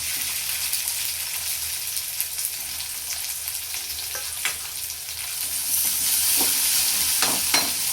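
Chopped onion and tomato sautéing together in a pan for pav bhaji, a loud, dense, steady sizzle with occasional spatula scrapes and taps near the end.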